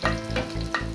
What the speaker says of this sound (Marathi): लसूण पाकळ्या, छान भाजून घ्यायचा।